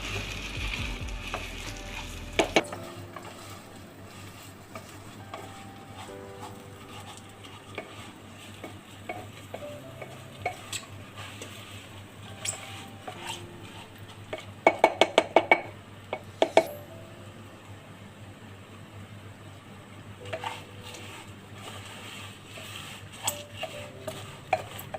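Jeera rice is stirred slowly in a pan for a long stretch, with soft scraping and occasional sharp metallic clinks of the spoon against the pan over a faint low sizzle.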